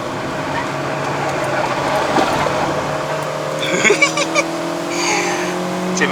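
A 2012 VW Polo 1.6L sedan with a six-speed automatic drives a winding uphill road in Malaysia, its engine humming at a held, steady speed through a bend with a brief rise in pitch and some light clunks inside the cabin.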